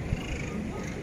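A cute cat encountered in a busy 24-hour shop gives a short, faint meow amid ambient store noise, with people chatting nearby.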